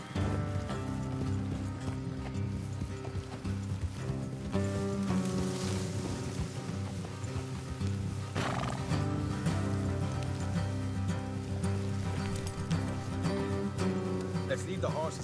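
Horses clip-clop along in Red Dead Redemption 2, a steady hoof rhythm under game music and ambience with an occasional faint whinny, while characters talk over it.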